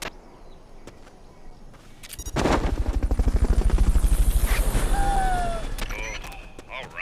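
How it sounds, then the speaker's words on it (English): A helicopter in the video game Metal Gear Solid: Peace Walker swells in, its loud rhythmic rotor chop pulsing steadily over a few seconds and then easing, mixed with sharp game effects and gunfire-like cracks. "Fulton recovery subject confirmed onboard helicopter."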